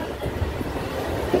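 A moving passenger train rolls on, heard from its open doorway: a close, steady rumble of wheels and carriage with soft rhythmic clacking and no voices.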